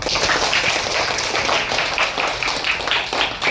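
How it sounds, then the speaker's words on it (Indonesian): Classroom audience applause after presentations, a steady patter of many hands clapping at moderate loudness with rhythmic accents throughout, without voices. "Ayo tepuk tangan untuk kita semua."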